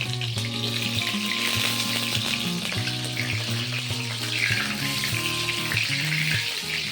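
Potatoes frying in hot oil for a mutton dish, a steady, loud crackling sizzle that runs without a break, with occasional stirring clinks and no voices.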